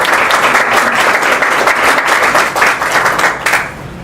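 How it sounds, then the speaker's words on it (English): A large audience breaks into loud, sustained applause, dense clapping that holds steady throughout with no talk over it. "I really want to give a round of applause for United Way also"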